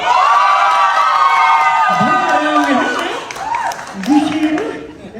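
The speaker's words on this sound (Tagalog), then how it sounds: "palakpak at sigawan na" An audience at a singing contest in Red Deer, Canada, bursts into loud cheering and high whoops on cue. The cheer fades as voices talk over the remaining noise.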